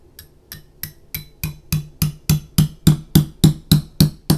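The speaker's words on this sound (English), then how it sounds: "hammer in the channel liner." A hammer taps a Glock channel liner into the slide, about fourteen sharp metallic strikes in a steady rhythm that grow gradually louder, close by with no talk.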